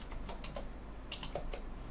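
Typing on a computer keyboard during a Linux editor session: a few quick, crisp key clicks in short bursts with gaps between them, close and fairly light against a quiet background.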